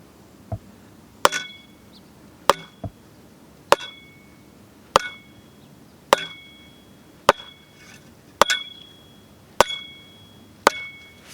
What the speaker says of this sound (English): I'm pounding it down with a piece of wood and a mallet or a hammer